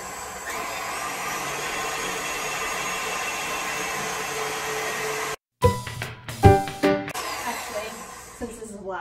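An electric mixer whisks macaron batter for lavender lemon macarons, a steady loud whirring drone that runs for several seconds, then cuts out and gives way to clattering bowl and handling sounds.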